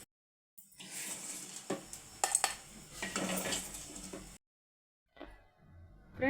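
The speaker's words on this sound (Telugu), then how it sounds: "మిక్సీ జార్లోకి తీసేస్తున్నా." Fried spices for ivy gourd chutney get scraped from a pan into a mixer jar, with a few seconds of metal spoon clinks and scraping, a brief pause, then another short scrape.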